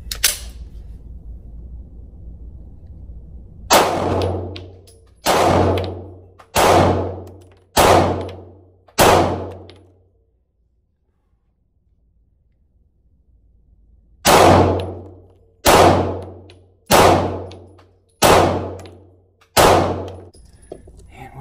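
Sharp pistol shots from a Stoeger STR-9 ring off a steel target at 5 yards: a fast string of five loud metallic clangs, a pause, then another five, with no talking.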